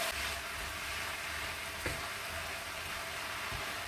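Minced beef fries in a pan with corn for homemade Mexican burritos, giving a steady, close sizzle and hiss that runs the whole time with no talking.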